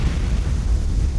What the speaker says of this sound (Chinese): 车厂发生了剧烈爆炸